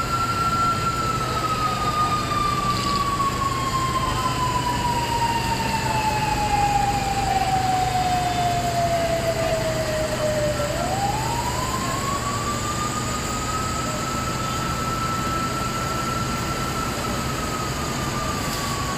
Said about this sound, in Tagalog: Dami pang fire truck.